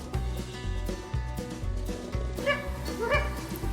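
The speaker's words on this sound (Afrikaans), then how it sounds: "Dit is 'n hond." A small sheepdog barks and yips repeatedly at close range, in short bursts over a steady low background, with no speech.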